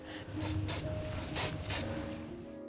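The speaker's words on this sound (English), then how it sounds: "sometimes I'll spray a little sheen over the face, and that's my final touch" Sheen sprayed over the face of a deceased person being prepared by a mortuary make-up artist: four short, airy hissing bursts from an aerosol, evenly spaced and close, over a faint steady hum, with no talking.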